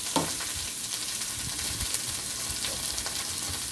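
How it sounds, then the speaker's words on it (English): Onion and celery sautéing in a pan for chop suey, giving a steady close sizzle and frying crackle with faint stirring scrapes throughout. "we're gonna let that saute"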